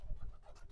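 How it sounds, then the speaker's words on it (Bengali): Pigeons cooing at close range on a farm, a few soft low murmuring coos in a short burst, with faint scratching and no voices. "দেখেন এই কবুতরগুলো, আরো 3টা কবুতর আছে"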